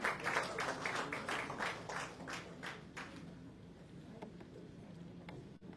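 An audience applauds the four actors Saie Tamhankar, Prasad Oak, Samir Choughule and Esha Dey at the trailer event for the Marathi film Gulkand. The clapping is dense and faint, strongest at first, then thins out and fades.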